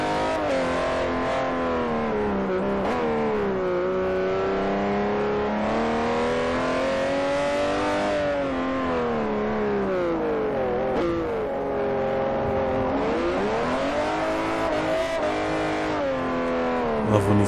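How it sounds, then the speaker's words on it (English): A Mercedes AMG GTR in Forza Motosport 4 roars continuously at high revs, its engine pitch rising and dipping as the tires spin, loud and close throughout with no talk over it. "Love when these tires spin like that."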